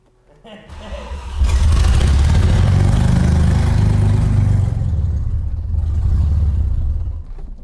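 An Audi 90 Quattro Sport in a scrapyard, its clutch stuck, fires up with a sudden loud close rumble and runs roughly and steadily for several seconds before cutting out and falling quiet.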